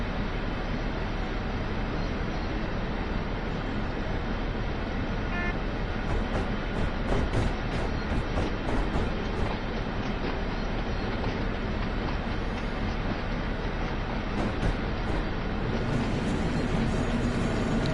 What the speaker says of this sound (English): I could do this all day, shunting with the G6 or with any shunter in the game